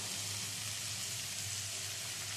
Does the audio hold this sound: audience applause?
no